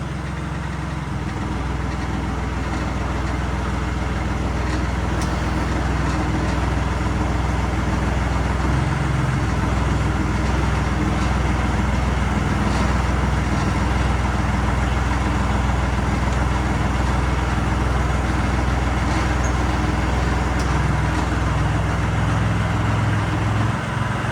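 A Kubota L1-18 Japanese compact tractor engine idles steadily and close by, a continuous low diesel rumble that holds even throughout with no voices.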